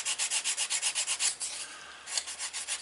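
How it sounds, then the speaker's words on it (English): Close, steady back-and-forth rasping of cheap 320-grit sandpaper rubbing a leather card wallet's edge, about a dozen rhythmic strokes, a brief lighter pause, then the strokes resume. "So what I'm going to do is sand it down with some 320."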